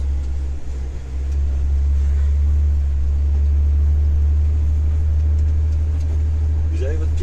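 A Renault Kerax 500 truck engine running with a heavy, steady low rumble that swells a little as it revs, close and loud, continuing for the full stretch.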